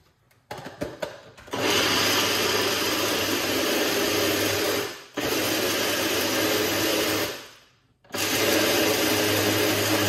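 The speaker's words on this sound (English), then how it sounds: "Let's blend." Blender whirring loudly as it blends pomegranate seeds for juice, starting up after a few rattles and running in three long bursts separated by brief pauses.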